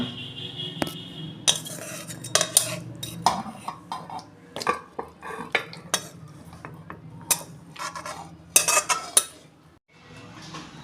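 Amudi fish curry scraped from a pan into a dish, a run of sharp metal spoon clinks and scrapes against cookware with short pauses, close and clear, no talking.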